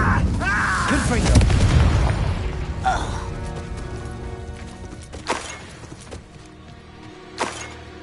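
Confringo spell blast in a Harry Potter video game: a heavy booming burst up front, followed by a few sharper cracks and pops amid game ambience, with voices talking over it.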